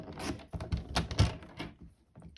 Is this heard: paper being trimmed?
yes